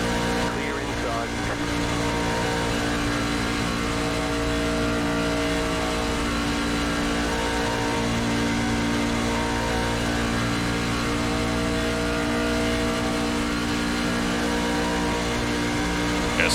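Race car engine held at full throttle in a Daytona racing video game, a steady loud drone with layered engine harmonics running unbroken from start to finish, other cars faintly mixed in.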